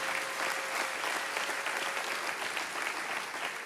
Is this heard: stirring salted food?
no